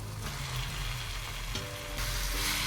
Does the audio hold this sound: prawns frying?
yes